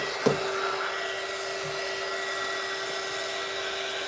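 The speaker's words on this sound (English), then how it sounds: "I'm going to take my heat gun now and just heat that on up and stir it a bit more" A heat gun runs with a constant whirring hiss and a steady tone while it heats resin in a cup, after a single sharp click at the start.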